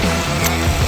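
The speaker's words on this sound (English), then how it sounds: "we'll simply put this back on using the same lug nuts." Ratchet wrench tightening lug nuts back onto a travel trailer's spare tire, a short burst of metallic pawl clicking close by with no talk.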